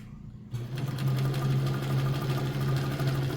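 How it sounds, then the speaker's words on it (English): An Emdeko sewing machine sews a dense satin stitch with the stitch length set almost to zero. After a brief quiet moment it starts a steady, close, even motor whir and needle hum that runs without a break. "That's called a satin stitch."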